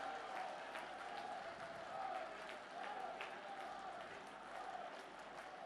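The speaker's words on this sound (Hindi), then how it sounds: "दोनों हाथ ऊपर उठाकर तालियां बजाकर अभिनंदन करें" A large crowd at a public meeting in Khandwa, Madhya Pradesh applauds to welcome Prime Minister Narendra Modi, a dense, steady wash of clapping heard from a distance for the whole stretch.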